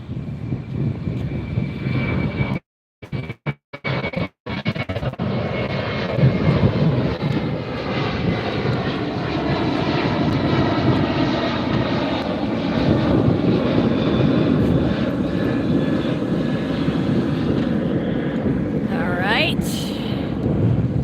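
A Sun Country airliner passes at LAX with a loud, sustained jet engine roar and wind buffeting. The sound builds and holds close, then tails off with a whining tone near the end.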